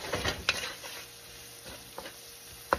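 Garlic being stirred in a pan for pansit, with a faint sizzle under a few sharp scrapes and clinks of a utensil against the pan, fairly quiet and close.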